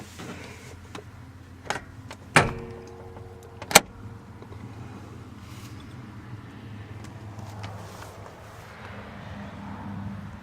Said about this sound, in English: First you need to release the hood, and it's on the left side of the steering column